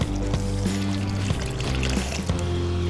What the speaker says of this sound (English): Now I'm gonna start adding water.